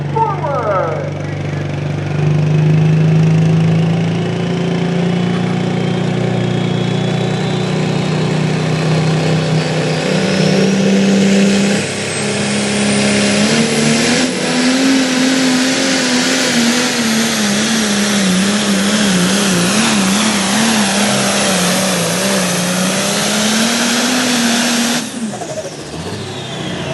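A tractor engine at a night tractor pull in Langford, New York, revs loudly and continuously, its pitch climbing and wavering through a long pull before cutting off near the end, with a crowd and announcer faintly beneath.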